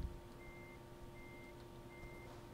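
A truck backing up in Euro Truck Simulator 2 sounds three steady reversing beeps at an even pace over a constant low engine hum, with no voices.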